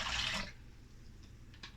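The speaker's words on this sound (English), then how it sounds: "And now I'm going to throw in the water just to wash out the green seasoning." Water splashes into a container of green seasoning for chicken marinade in a kitchen, a brief watery pour near the mic for about half a second, then quiet with a few small clinks.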